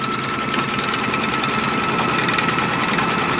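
A Kimberbell embroidery machine stitches off crosshairs in a steady, continuous mechanical whir, fairly loud and even throughout, with no talking.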